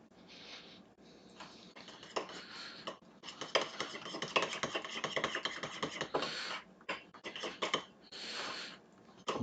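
Spoon scraping and clinking against a bowl while separated yogurt is stirred back together, an uneven run of close, busy scrapes and taps with no talking.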